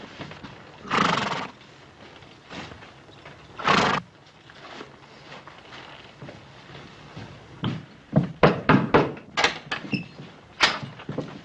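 Cavalry soldiers' horses whinny a couple of times, then hooves clop and shuffle close by in a quick burst of uneven steps as the animals come to a halt.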